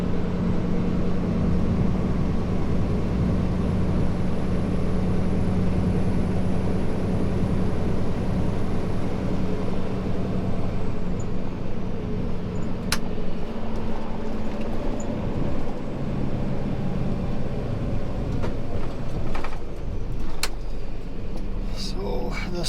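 Steady engine drone and road rumble from a Kenworth T680 truck cruising under light throttle on a wintry road, a constant loud hum with someone talking over it.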